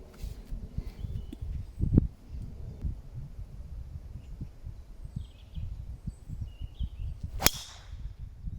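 A golf driver strikes a ball off the tee with one sharp, bright crack near the end, heard outdoors over faint wind and low rustling.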